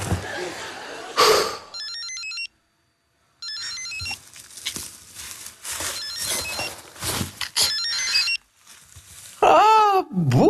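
A telephone rings in a Romanian sitcom scene, a short electronic ringtone phrase recurring a few times between musical stings and bits of voices.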